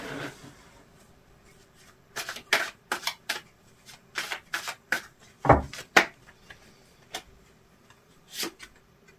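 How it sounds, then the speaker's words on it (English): Tarot cards are shuffled and handled at close range for another draw, giving a quiet series of soft, uneven flicks and rubs in short clusters with gaps between them. "I'm going to take one more card on that one."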